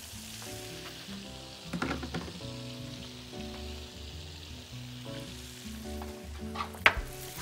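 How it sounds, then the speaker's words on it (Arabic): Chicken wings in a sticky barbecue-style sauce of garlic, ginger, coriander and sesame bubble and sizzle in a hot pan while a utensil stirs them, with soft scrapes and occasional louder clinks. "هقلب"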